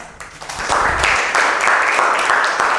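Students in a classroom art lesson break into applause, a short stretch of steady clapping that builds quickly and carries on at moderate loudness, with a brief voice at the start.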